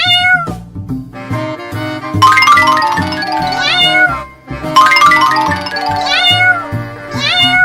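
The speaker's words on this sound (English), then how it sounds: "Why are these kittens meowing so much?" Cartoon kittens meow over and over in high, stylized calls, laid over bright animated music with chiming tones, loud and continuous throughout.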